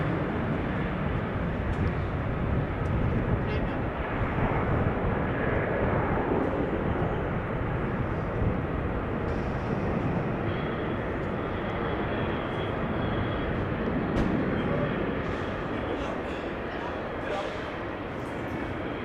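A KLM airliner heading for Malaga at Amsterdam Schiphol gives a steady broadband jet rumble that fades slightly near the end, with occasional talk in the background.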